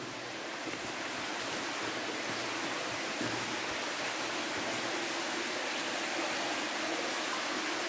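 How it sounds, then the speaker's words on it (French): Water rushes continuously from a waterfall or stream deep inside a mine, a dense, even roar that fills the space without pause. "Je sais pas si vous entendez, il y a apparemment une cascade ou un cours d'eau."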